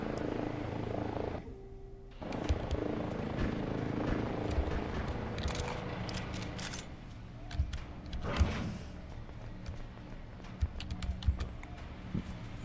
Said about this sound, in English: Just another guy with a chopper follows behind.